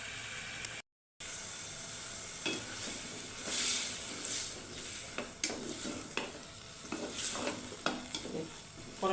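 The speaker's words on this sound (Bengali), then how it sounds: "করলাটা আর আলুটা দিয়ে নিচ্ছি," Bitter gourd and potato pieces sautéing in a hot pan for a tangra fish curry, a constant sizzle broken by repeated scrapes and knocks of a stirring utensil.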